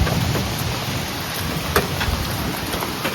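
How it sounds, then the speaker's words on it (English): Steady rain falling on a forest trail, a dense continuous patter with occasional louder drops and a faint rumble of thunder, close and enveloping with no voices. "it's raining."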